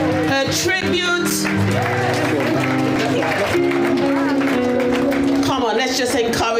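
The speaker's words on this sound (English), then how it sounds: "Come on, let's give her a standing ovation." Congregation clapping through a standing ovation at a Thanksgiving church service, steady broadband applause running the whole time, mixed with music and voices speaking over it.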